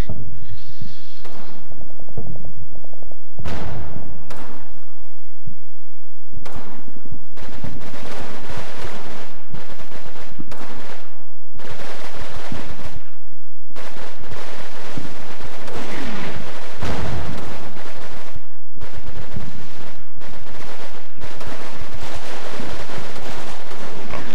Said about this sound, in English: Russian submachine guns are doing at close range